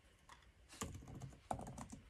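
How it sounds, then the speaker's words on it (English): Soft, quick typing on a computer keyboard, with irregular keystrokes and a couple of firmer taps, faint and close with no voices. "Maybe I'll just type it out."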